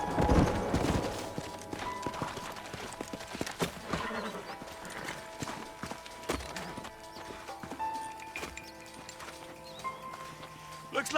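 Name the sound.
horses clip-clopping in Red Dead Redemption 2 video game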